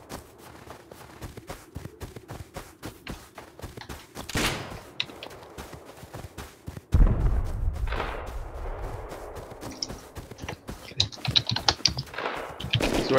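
Video game gunfire in rapid bursts and single shots, loud and close, with a heavy booming stretch partway through, over constant keyboard clatter.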